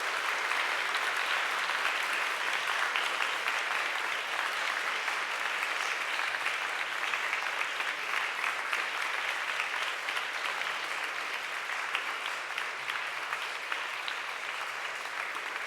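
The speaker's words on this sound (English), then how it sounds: "will you stand up and give a big round of applause to your friends and supporters" Sustained applause from a large graduation audience at a university ceremony, a dense, steady roar of many hands clapping for the full stretch with no speech over it.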